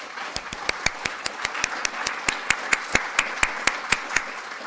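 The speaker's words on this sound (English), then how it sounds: "Let's give the panel a round of applause." A round of applause for a panel at a financial capability roundtable, heard here as sparse, evenly spaced sharp claps close by, a steady rhythm rather than a full crowd, with no talk.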